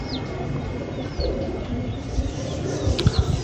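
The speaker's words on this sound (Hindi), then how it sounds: "ये चेक करें किधर किधर से कबूतर आ रहे हैं आज तो" Pigeons kept for a pigeon-flying contest coo softly in low, rolling calls, with a few wingbeats and faint chirps nearby.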